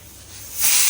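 Steam releasing from a pressure cooker whistle: a soft hiss swells suddenly into a loud, sustained rush about halfway through and holds steady to the end, with no voices.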